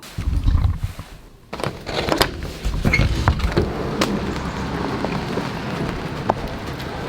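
Rain falls outdoors in Seattle near an Airstream trailer, a dense continuous patter with scattered louder drops and taps, fairly close and steady.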